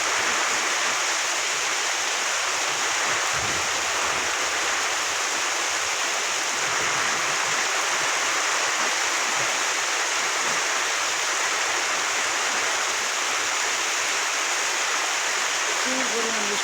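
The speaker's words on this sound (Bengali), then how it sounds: "যেরকম বৃষ্টি এরকম ঝড় হইতেছে" Torrential stormy rain pours over a rural village home, a constant broadband hiss and roar that never lets up, with faint low sounds beneath.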